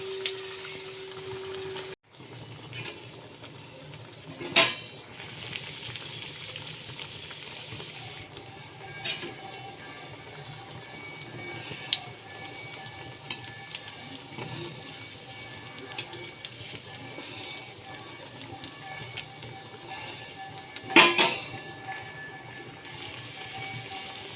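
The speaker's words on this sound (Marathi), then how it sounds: "मी आता कढईमध्ये तळायला घातला आहे वडा" Soft, continuous bubbling sizzle of fenugreek vadas deep-frying in a wok, with a few clinks and taps scattered throughout, fairly quiet.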